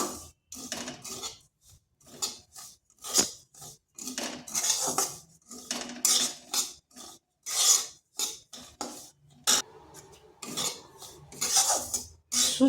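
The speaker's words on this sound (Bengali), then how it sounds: "সুজিটাকে একটু হালকা করে ভেজে নিচ্ছি" A spoon scrapes and rasps through dry semolina roasting in a pan over low heat, in quick irregular strokes with brief pauses, close and clear with no talking.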